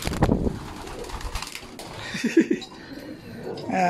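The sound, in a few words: racing pigeons cooing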